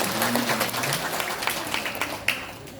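Audience applause at a Balinese drama gong performance, short scattered claps rising over crowd murmur and a voice in the background, moderately loud and fairly close.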